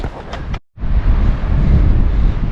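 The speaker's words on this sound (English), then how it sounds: "Man, it's windy out here, guys." Loud, chilly wind in the Arizona backcountry buffets the microphone with a roaring, rumbling rush, briefly cutting out before surging back steady and strong.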